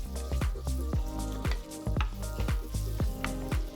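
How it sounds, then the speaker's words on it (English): Diced tomatoes going into a pan of hot frying onions for an Indian potato chicken curry, giving a steady close sizzle with repeated wet crackles and pops throughout. "You can now add the tomatoes."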